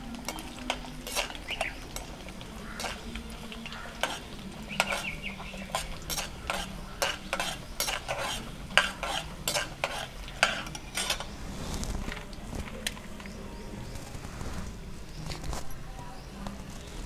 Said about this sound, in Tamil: எண்ணெய் காஞ்சிட்டு கடுகு போட்டுருவோம். இப்போ கடலைப்பருப்பு போட்டுருவோம்.